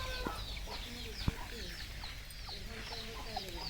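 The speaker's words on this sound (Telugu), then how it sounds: "ఇవన్నీ కోళ్ళేనండి" Chickens cluck and call on a family farmhouse, several birds giving short, overlapping clucks and squawks at moderate distance in a quiet outdoor setting.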